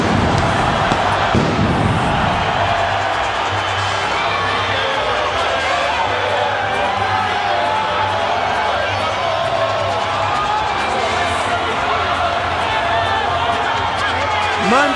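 A boxing arena crowd roars and cheers during Oscar De La Hoya's ring entrance before his June 2000 fight with Shane Mosley, a dense, loud, sustained wash of noise that a commentator talks over throughout.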